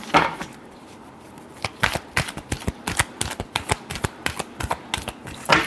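Tarot cards being shuffled by hand, a close run of quick crisp riffling taps and slaps in an uneven rhythm, loud and alone without talk.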